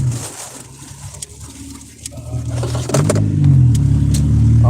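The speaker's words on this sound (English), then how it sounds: "There's that green-colored Volkswagen." A green Volkswagen car drives past, its engine rumble and tyre noise swelling from a quieter start to a loud, close pass in the final seconds, with faint birds in the background.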